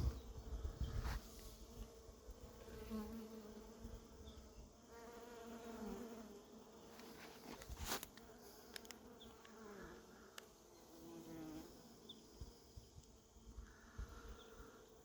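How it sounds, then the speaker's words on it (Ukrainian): Steady droning hum of many bees buzzing together in a flowering lavender field outdoors, low and continuous with a few louder passes near the microphone, no voices. "Як бджоли працюють."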